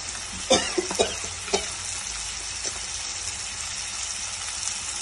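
Spoon stirring red chilli powder and turmeric into tomatoes in a hot pan for paneer capsicum curry, a steady sizzle with a few sharp scraping clinks early on, close and without talk.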